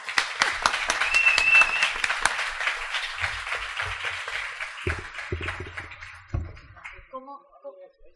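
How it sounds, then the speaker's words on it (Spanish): An audience applauds at the presentation of a paranormal and mystery biennial in Bélmez de la Moraleda, Spain. Dense, steady clapping swells and then gradually thins out, and a voice begins speaking near the end. "Pido un aplauso para ella."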